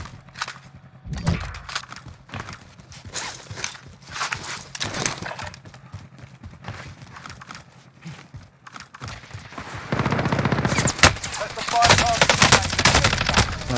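Rapid automatic gunfire bursts rattle through a Warzone match, recurring across the stretch and growing denser and louder toward the end amid other in-game effects.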